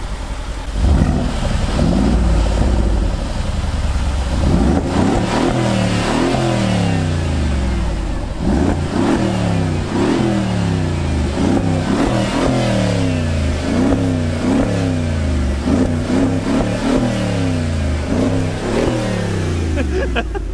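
A Mercedes-AMG G63 6x6 revs hard through its sidepipes, recorded from outside the truck: a loud, continuous engine roar with repeated rising throttle blips and rhythmic swells across the whole stretch.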